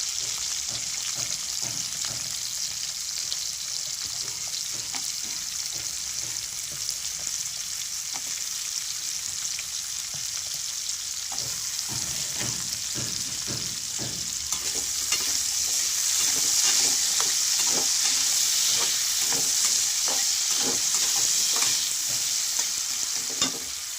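Steady sizzling of mixed vegetables, including radish, frying in a pan for a curry, with a bright hiss throughout and occasional scraping stirs, growing louder in the second half.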